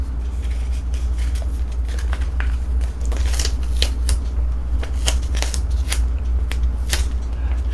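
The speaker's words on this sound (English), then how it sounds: "so we're using the scissors" Scissors snipping close to the microphone in a quick irregular series of sharp crisp cuts over a low steady hum.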